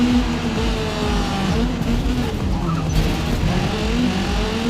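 BMW M3 race cars in Forza Motorsport: a loud, sustained engine roar from several cars revving near 8500 rpm at a race start, with tonal whine and tire noise layered in a thick, continuous drone.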